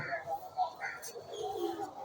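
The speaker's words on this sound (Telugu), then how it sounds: "spotted Dove" A spotted dove coos at a zoo in Hyderabad, soft repeated low cooing notes close by amid faint background chatter and ambient noise.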